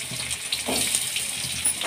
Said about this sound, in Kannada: ಈರುಳ್ಳಿನ ಚೆನ್ನಾಗಿ ಫ್ರೈ ಮಾಡ್ಕೋಬೇಕು ಕೆಂಪಾಳ.